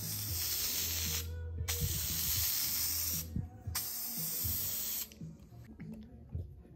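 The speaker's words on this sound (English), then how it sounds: "you still use the 3M spray, and we're gonna give it a light coat." Three long hissing bursts of 3M spray adhesive on a Hyundai Veloster N interior pillar, close and steady, separated by short pauses, followed by softer intermittent spray hisses and handling noise.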